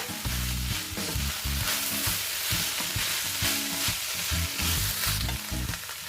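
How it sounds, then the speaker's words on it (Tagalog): Fried chicken sizzles steadily in a pan as smoked tinapa fish flakes are stirred in, with repeated scraping strokes of the utensil running throughout at close range. "we can now put our tinapa flakes. And let's mix it together"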